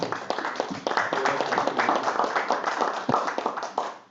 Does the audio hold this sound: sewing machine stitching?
no